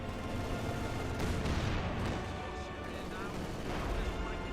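Rapid bursts of MG42 machine gun fire and other battle noise from the Company of Heroes 2 video game, dense and continuous, with gunfire crackling over a steady rumbling mix.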